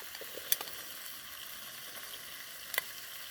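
Fried pointed gourd (potol) pieces drop into hot masala in oil, giving a faint, steady sizzle with two brief louder splashes as pieces go in.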